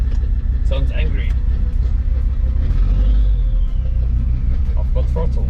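The 2.7 CRD diesel engine of a Jeep Grand Cherokee WJ, running in limp mode during a test drive, gives a loud, close, constant low rumble, with a person talking over it at moments.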